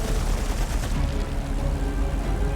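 Dense, loud bursts of machine gun fire ring out in the World War II naval video game BattleStations: Midway, forming a continuous rattling barrage with heavy low booms underneath.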